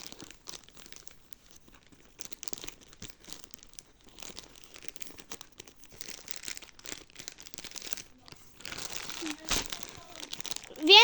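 Barbie set packaging being opened by hand: quiet, intermittent crinkling and tearing of plastic and cardboard in irregular bursts, growing louder and busier toward the end.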